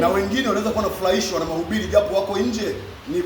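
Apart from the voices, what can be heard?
No everyday noises stand out.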